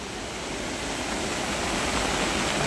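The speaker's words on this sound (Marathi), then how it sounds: "डॅमला पाणी मजबूत आलंय बरं का." Strong monsoon flow pours through a Konkan dam, a loud, constant broadband rush like a waterfall that swells a little over its few seconds, with nothing else heard above it.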